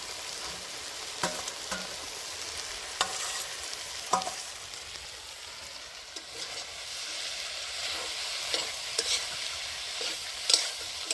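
A spice paste fries with boiled potato and Malabar spinach in a pan, giving a steady soft sizzle broken by repeated scraping stir strokes, close and moderately loud, with no talking.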